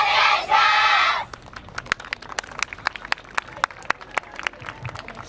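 Applause at the yagura stage of the Koiya Matsuri 2019 festival in Osaka, a loud burst of crowd clapping that quickly shifts into steady, rhythmic hand-clapping along to a beat.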